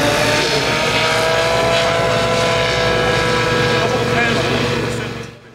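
Radio-controlled model helicopter flying at an F3C championship, a loud steady engine and rotor drone with constant tonal whine holding throughout, then fading away at the end; speech-like sound mixed in.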